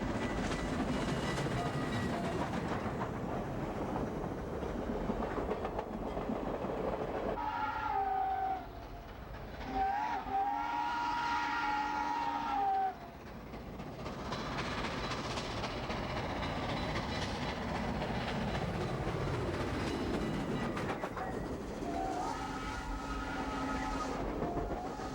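Steam locomotive 819 rumbles across a timber trestle in rolling Texas hill country, a loud continuous chugging and rolling clatter with several whistle blasts sounding over it, heard from fairly close.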